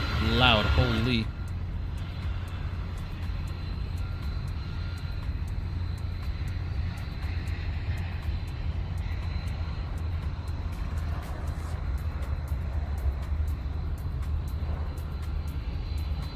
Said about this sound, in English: Nice little DHL A300.